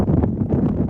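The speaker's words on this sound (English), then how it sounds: "It's really windy right now." Strong outdoor wind buffets the microphone in a steady, loud low rumble that fills the whole second with no other sound.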